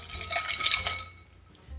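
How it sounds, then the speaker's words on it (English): Ice clinking against glass as a Knob Creek Manhattan cocktail is stirred, a short run of close, bright tinkling that fades out after about a second. "Now we're ready to add ice and stir for about 25 seconds"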